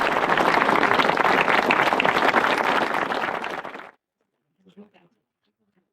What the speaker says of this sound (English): So a round of applause for Dave.